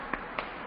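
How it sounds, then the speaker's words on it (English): Three sparse, sharp claps from children in an online class, thin and compressed, evenly spaced over less than a second, the last one loudest. "Clapping for Arth, everyone"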